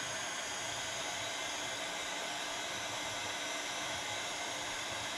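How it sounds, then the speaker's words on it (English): A heat gun blows hot air to shrink thick, glue-lined heat-shrink tubing, giving a faint, steady whooshing roar with no pauses. "I have an actual heat gun."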